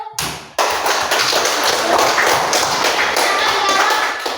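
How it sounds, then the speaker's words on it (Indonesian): A classroom of students claps for a group, a brief voice at the start giving way to loud, dense, sustained clapping from many hands that fades slightly at the end. "Oke, tepuk tangan for grup."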